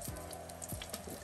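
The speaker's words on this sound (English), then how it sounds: "Drop it on the side and let them fry up." Constant crackling sizzle of plantain frying in hot oil, close and steady with small pops.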